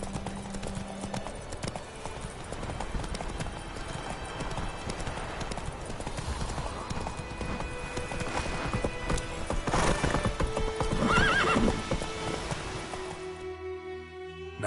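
Roach, a horse in the video game The Witcher 3, gallops with steady rapid hoofbeats over a busy game soundscape, with a brief whinny near the end and some speech-like game voices underneath.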